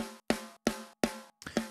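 Four isolated pop punk snare drum hits, evenly spaced and sharp, each with a bright crack and short ringing decay, the last hit doubled with a quick flam; no voices.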